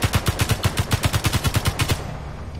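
Rapid automatic gunfire from the Space Engineers video game rattles off in an even burst of about fifteen sharp shots, loud and close, then cuts off into a low hum.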